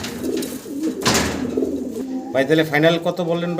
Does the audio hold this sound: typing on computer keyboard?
no